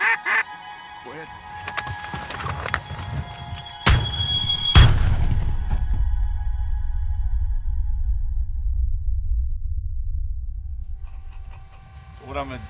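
A gun fired outdoors, with two loud, sharp reports close together, followed by a steady low rumble of wind or background noise.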